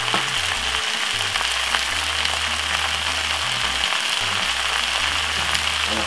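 Spinach and mixed vegetables sizzle steadily in a hot pan during a quick home-cooked stir-fry, a dense, even crackle that runs throughout with no talking.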